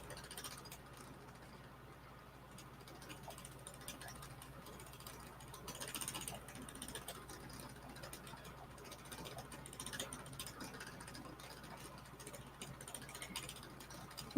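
Wooden spinning wheel turning steadily as wool is spun onto a bobbin, a quiet continuous mechanical whir with faint rhythmic ticking and clicking, fairly soft and unbroken, with no talking.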